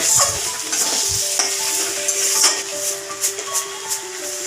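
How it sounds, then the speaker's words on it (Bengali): Cabbage cooked with fish heads sizzles steadily in a frying pan while it is stirred, with a few soft scraping strokes and light clinks over the constant hiss. "আবার নেড়ে চেড়ে দিলাম"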